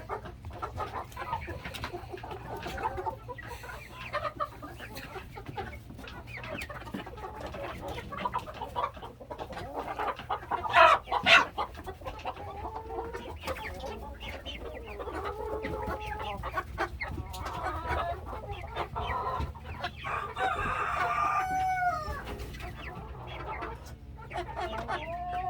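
Chickens and roosters in a farm flock, clucking and crowing in overlapping calls, close and fairly busy, with a louder burst near the middle and a low background rumble.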